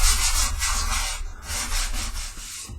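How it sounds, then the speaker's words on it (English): Steady back-and-forth scraping of a sanding sponge on a wood plaque, repeated strokes in a continuous rhythm with a brief pause midway, close and fairly loud. "I'm just going to sand down over the entire plaque"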